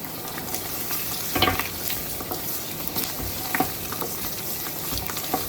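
A roux for chicken and sausage Louisiana gumbo is stirred constantly in a hot pot, giving a steady close sizzle broken by repeated scraping strokes of the spoon.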